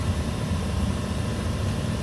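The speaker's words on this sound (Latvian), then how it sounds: "Bet nosprauslojās, bet mašīna nosprauslojās." A drag car called Ruksis idles with a low, uneven engine rumble while waiting in the racers' queue, the sound staying close and constant without any talk.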